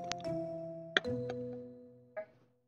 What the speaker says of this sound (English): Our doorbell just rang.